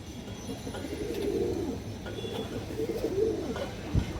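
Red-eyed pigeons coo softly in a loft, a few low throaty calls rising and falling over faint background noise.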